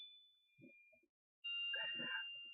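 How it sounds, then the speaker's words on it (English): A phone notification chimes with a bright, clear two-tone ding, first faint and then louder, while a voice murmurs softly in a quiet room. "that's my phone going off"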